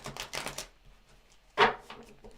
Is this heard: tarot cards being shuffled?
yes